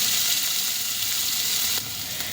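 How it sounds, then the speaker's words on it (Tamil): Onions sizzle steadily in hot oil in a pan for a Tamil liver pepper fry, a continuous close frying hiss with faint stirring and no talk. "இது நல்லா வதங்கட்டும் கொஞ்சம்."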